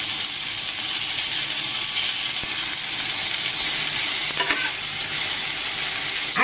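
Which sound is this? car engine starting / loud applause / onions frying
onions frying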